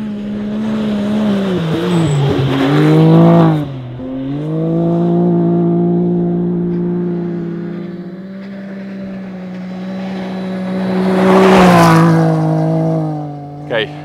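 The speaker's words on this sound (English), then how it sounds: "Two buggies coming." Rally buggies at the Dakar Rally 2023 racing by: loud engine drones rising and falling as two vehicles pass in turn, with wind noise and a voice heard over them.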